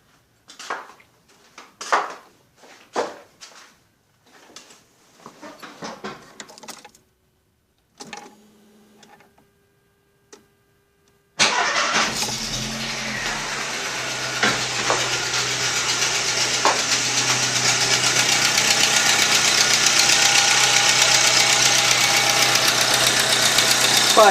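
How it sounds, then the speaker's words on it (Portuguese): VW Gol 1.0 8v car with a fault: scattered clicks and handling noises, then about halfway through the engine fires up and runs loud and close, a continuous idle with a persistent knocking clatter. "Eu vou ligar o carro ali agora para vocês verem o barulho que está fazendo"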